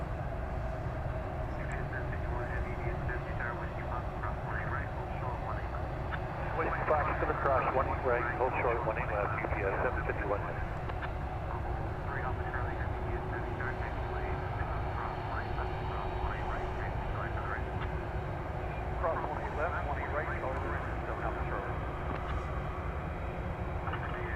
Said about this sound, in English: there goes the 757 rocketing into the night sky